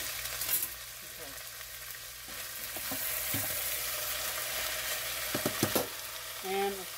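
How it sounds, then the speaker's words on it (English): Frozen green beans fry in a quarter cup of hot oil in a pan, a steady crackling sizzle with scattered clinks and stirring knocks, and a short tonal sound near the end. "we're going to go ahead and drop them into a 1/4 cup of hot oil"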